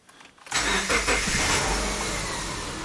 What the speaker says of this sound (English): So the car is running now